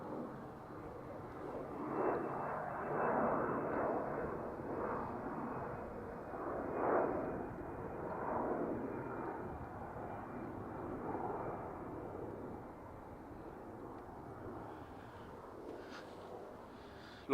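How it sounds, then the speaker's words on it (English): Lufthansa airliner departing Dublin Airport's north runway, a steady broad jet engine roar that swells and ebbs over several seconds at a moderate distance, then slowly fades, with no voices. "Lufthansa departing North Runway."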